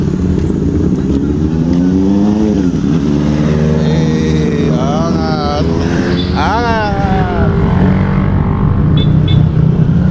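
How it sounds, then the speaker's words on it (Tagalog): Many motorcycles from a riding group pass one after another on a road heading downhill, loud engines revving and droning continuously up close, with people talking over the steady roar. "Ang dami ng motor."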